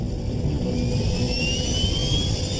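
A 65,000-kilogram jet airliner roars at full thrust while accelerating down runway 3C for takeoff, a loud, steady engine rush with a rising whine.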